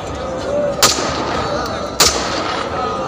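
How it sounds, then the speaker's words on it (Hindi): Two sharp gun salute shots fired in honor at a state funeral, spaced about a second apart and loud over a dense outdoor crowd murmur. "राजकीय सम्मान में चलनी थी 10 गोलियां, पर प्लेबैक में चली सिर्फ 4।"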